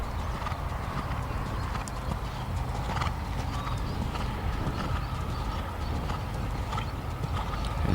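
A dressage horse performs flying changes in a Grand Prix test, its hooves beating a steady rhythmic clip-clop over continuous outdoor background noise.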